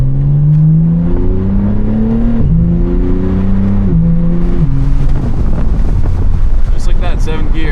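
A BMW G80 M3 pulls hard under acceleration, its engine note rising in steady sweeps that drop sharply at each quick upshift, with heavy wind and road roar from inside the cabin throughout.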